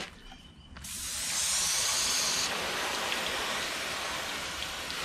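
Water spray rinsing a sanded headlight lens on a 2006 Dodge Ram 1500, a loud steady hiss that starts abruptly and runs unbroken, with no talking.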